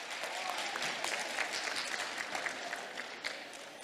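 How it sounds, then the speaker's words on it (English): A room of conference attendees at the Ottawa Conference and Events Centre gives a round of clapping for the kitchen and serving staff, a moderately quiet, sustained patter of many hands that stays level throughout. "How about a big round of applause for the kitchen staff, the serving staff, everyone here at the Ottawa Conference and Events Centre."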